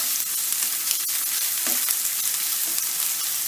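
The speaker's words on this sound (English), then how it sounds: "we're going to cook the prawns" Prawns laid flat in a hot pan sizzle and fry with a steady, dense crackle, close and continuous, with a few brief louder spits.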